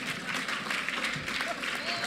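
A gala dinner and awards ceremony audience claps steadily and densely throughout, a continuous wash of many hands at even loudness with no break.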